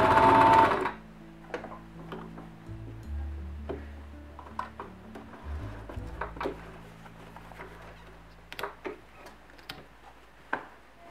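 A domestic sewing machine stitches around a corner in fabric, whirring in short runs with pauses between them, its needle mechanism ticking and clicking up close in a quiet room.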